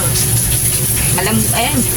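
Fish fries in a pan with a loud, crackling sizzle throughout, and a voice is briefly heard behind it.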